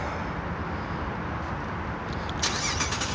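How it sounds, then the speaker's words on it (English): A Chevy Captiva Sport LT V6 starts up by remote start, its engine noise a steady broadband hum that holds throughout, with a brighter lift near the end as it catches. "my favorite, is you've got remote start"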